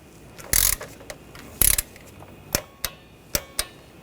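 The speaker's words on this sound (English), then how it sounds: "for the last step, we're going to go around and torque these to 74 inch-pounds" Torque wrench tightening valve cover bolts on a 2014-2020 Nissan Rogue 2.5L to 74 inch-pounds, two sharp ratcheting bursts followed by several crisp individual clicks, close and alone in a quiet space.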